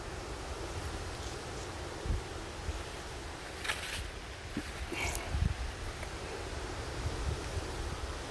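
Wind blows steadily outdoors in woodland where yellow mushrooms are being gathered. It makes a faint, continuous rushing with a few soft gusts and rustles, and no talk.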